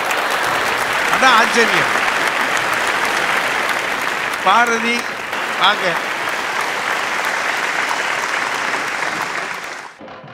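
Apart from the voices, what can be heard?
audience applause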